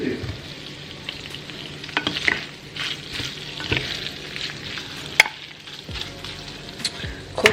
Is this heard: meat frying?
yes